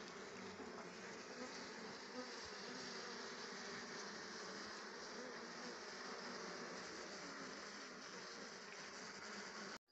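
A dense swarm of honey bees droning steadily during a hive honey harvest, a continuous buzzing hum that fills the whole stretch at an even level without breaks.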